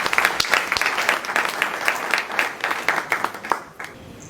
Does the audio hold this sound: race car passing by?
no